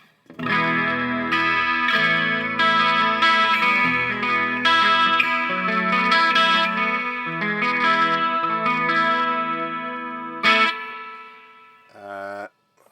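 Clean electric guitar chords and single notes shimmering through a chorus effect, ringing and sustained, ending with a short low strum.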